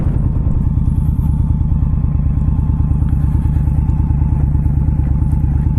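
An Indian Scout Bobber Sixty ABS motorcycle engine revs hard while riding at high RPM, a loud, steady, throbbing V-twin drone with rapid pulsing that stays close and constant throughout, with no talk.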